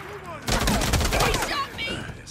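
Gunfire in the video game Days Gone, a dense burst of rapid shots mixed with a voice, loud and close, then trailing off into quieter game sounds.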